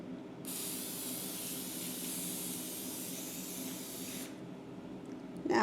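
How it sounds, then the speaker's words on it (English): Olive oil spray hisses onto potatoes being prepared for an air fryer in one long, steady burst of about four seconds, close and fairly loud, then stops. "Just using some olive oil spray."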